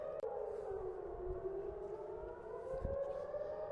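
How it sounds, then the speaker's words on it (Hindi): A steady, loud air raid siren in Israel, warning of an Iranian missile attack, drones with a gently sliding pitch, joined by faint low rumbles and a brief click near the start. "मिसाइल अटैक लॉन्च किया जाता है तो सायरन बजती है,"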